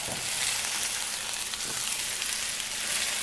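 Ravioli searing in a frying pan, a loud, steady, close-up sizzle of hot oil that fills the whole stretch with no voices.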